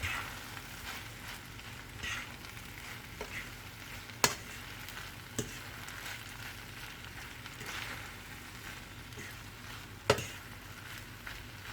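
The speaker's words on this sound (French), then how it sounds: "Je vais mélanger avec ma fourchette pour égrener en même temps les petites perles." A fork stirs turkey, bacon and pearl pasta in a hot pan, making a quiet steady sizzle broken by a few sharp clinks against the pan, heard alone without talk.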